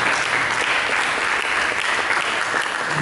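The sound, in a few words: congregation applauding in church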